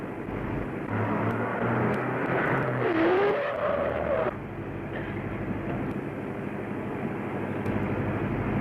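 An old car speeding along, its engine a steady rumbling drone with a rising whine partway through, continuous and fairly loud with no talk over it.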